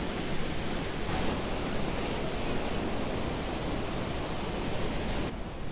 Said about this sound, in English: You are inches away from the falls.